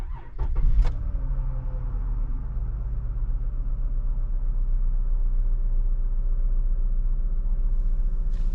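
A Dodge Journey's 3.6L V6 cranks briefly with a few sharp clicks, catches, and settles into a smooth, steady idle hum that continues close by without talk, after a variable valve timing solenoid replacement.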